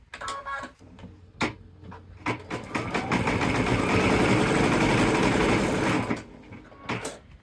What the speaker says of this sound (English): it says stitch the large placement star lines, and then so we'll stitch those